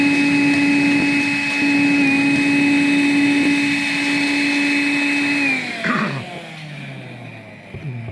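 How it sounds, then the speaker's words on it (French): A vacuum cleaner runs over the outside of a Sanyo XL50 air purifier filter removed from its cage: a loud, steady motor whine holds for about five seconds, then winds down with shuffling handling noise at the end. "on retire le filtre entièrement de sa cage et on procède à une aspiration"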